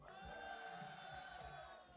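An audience at a Bristol Ant Social event cheers and whoops in a sustained, even burst of crowd noise, fairly faint and distant, without a clear peak.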